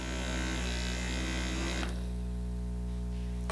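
A YAFEX electric makeup brush cleaner spins a damp makeup brush dry with a steady, loud motorized whir and hum throughout, its tone shifting partway through.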